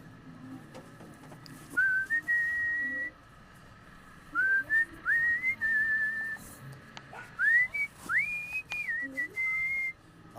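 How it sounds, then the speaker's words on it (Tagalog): A person whistles short rising and sliding tunes in three separate phrases while riding a motorcycle chain-gang ride, the clear whistle sitting over a low steady road and engine rumble. "Ay, sipol-sipol lang tayo mga paps."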